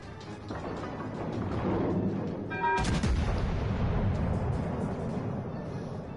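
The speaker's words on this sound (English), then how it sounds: "Yep, I got one of his turrets. Enemy battleship sighted." Battleship main guns firing in the World of Warships Legends naval battle game, a heavy boom rolling into a long low rumble over steady background game noise, no talking.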